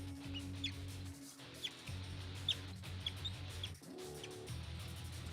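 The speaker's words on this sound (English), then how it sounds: "That's a pet budgie. He's just there in the background." A pet budgie squeaks in faint, scattered chirps in the background over a steady low droning hum from a live Age of Empires IV match.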